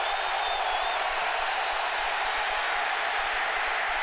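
Stadium crowd at a 2006 NFL game between the Cowboys and Falcons roars in a dense, constant wall of cheering and applause, loud and unbroken from start to finish.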